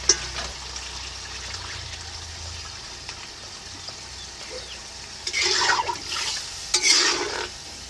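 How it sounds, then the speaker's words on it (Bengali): Water poured into a pan of chicken kosha, a brief gushing splash and sizzle bursting out near the end after a stretch of low kitchen hiss. "এখন জল দিয়ে দিচ্ছি।"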